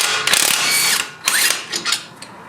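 Wrench and socket ratcheting on a 21 mm strut bolt of a Nissan Altima, a loud close metallic clicking in several quick bursts with brief pauses, no voices.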